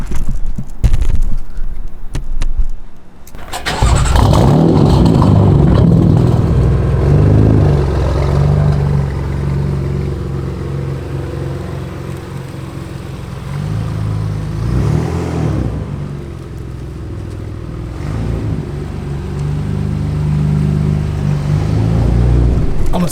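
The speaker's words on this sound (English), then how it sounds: "This is a cold start on a 2015 BMW M4." A 2015 BMW M4 fires up from cold, a sharp starter catch and loud flare of revs settling into a heavy, lumpy high idle that drones on with slight rises and dips.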